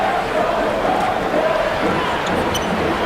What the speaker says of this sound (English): going all through the arena here as they are going bananas for their team